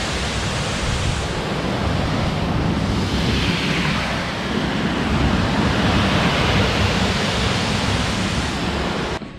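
Water rushes steadily through a small dam at Inglis Falls, a loud, broad, unbroken roar of churning flow heard close and alone.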